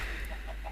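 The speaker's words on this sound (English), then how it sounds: "we need to get out of here without letting the chickens escape" Short, soft clucking of chickens in the video game IronStoneMine, a few brief calls over a steady background hum.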